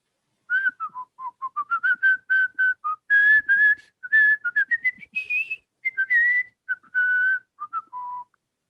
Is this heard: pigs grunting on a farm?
no